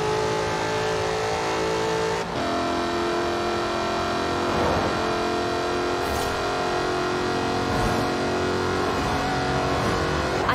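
Jaguar Project 7 sports car engine revving in the Forza Horizon racing game, a loud continuous drone with a gear shift after about two seconds and steady sustained engine tone throughout.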